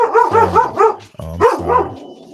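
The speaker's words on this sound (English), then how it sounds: "That's my dog." A dog barks close and loud in a quick burst of four or five sharp barks with short yips between them, and a person briefly speaks partway through.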